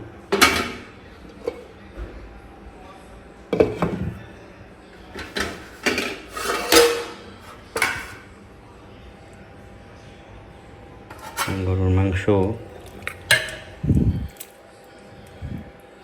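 Cooking pots and utensils handled at a home stove as food is taken off, with scattered metallic clanks, scrapes and knocks at close range, under a quiet background hum and a brief voice.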